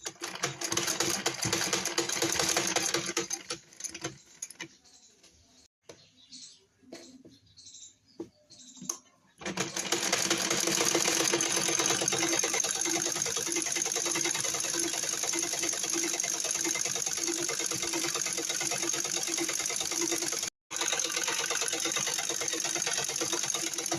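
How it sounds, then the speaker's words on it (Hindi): Electric sewing machine stitching a seam on a pair of trousers, a steady continuous whir running loud for most of the clip after some quieter intermittent handling sounds, with one brief stop near the end. "और लगा लेंगे सिलाई।"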